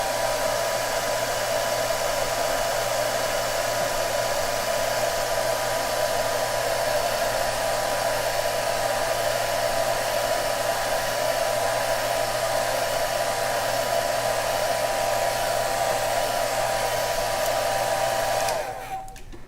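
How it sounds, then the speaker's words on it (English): A hair dryer blows steadily on a wet Asian brush ink painting of bamboo, a constant loud whooshing hum held for nearly twenty seconds before cutting off at the end. "I think we can use hair dryer."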